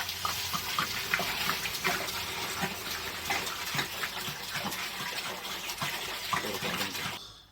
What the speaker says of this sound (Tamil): தண்ணி ஆட் பண்ணிக்கலாம்